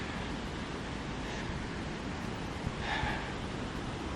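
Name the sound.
waves at the beach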